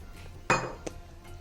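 A metal pot clanks sharply once while atta flour is added for atta dosa, followed by a softer clink and faint kitchen rattles.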